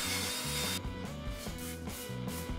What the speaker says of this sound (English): we can easily clean up some of the old caked on brake dust with a wire wheel and a